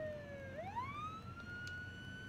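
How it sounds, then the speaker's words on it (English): A siren wails in the Jenny LeClue: Detectivu video game, one sweeping electronic tone that drops and then rises again, faint and somewhat distant over a low rumbling background, with no talking. "As the sirens grew louder,"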